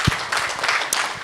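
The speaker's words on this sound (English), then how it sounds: "Another round of applause, please," Audience applause for the convener at a national policy dialogue on unpaid care work in Kigali, a short burst of dense hand clapping from a crowd indoors, steady and fairly loud throughout.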